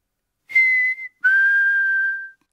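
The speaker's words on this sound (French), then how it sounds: "Maman Pig sait siffler." A cartoon pig character whistles two clear, steady tones, a short note followed by a longer held one, loud and close with no talking.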